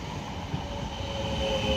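South Western Railway class 450 and 455 electric trains, coupled together, arrive at a platform at West Byfleet with a steady rumble and a thin high squeal of wheels, close and continuous.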